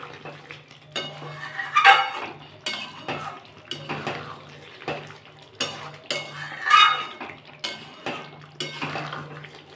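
Metal spatula scraping and clinking against a pot of boiled potatoes, a string of close, irregular scrapes and knocks over a steady low stove hum.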